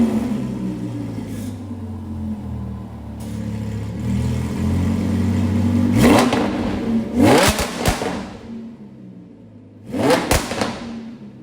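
A Liberty Walk wide-body Lamborghini Huracan idles with a low rumble, then is revved hard in two sharp bursts, the exhaust roaring up and dropping back each time.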